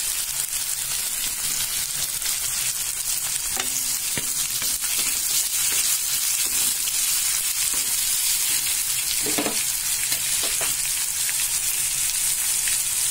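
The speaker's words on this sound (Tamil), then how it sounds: "இந்த டைம்ல கட் பண்ணி வச்சிருக்க வெங்காயம் சேர்க்கிறேன்." Chopped onions and mustard seeds sizzle in hot oil for a prawn thokku, a dense continuous crackle with occasional sharper pops and light stirring scrapes, no voices.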